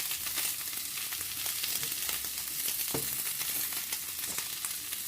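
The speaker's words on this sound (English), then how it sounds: "And give it a little stir." Tofu and quinoa stir fry sizzles steadily in a hot pan while being stirred, a continuous crackling hiss with soft scraping taps from the utensil, close and even throughout.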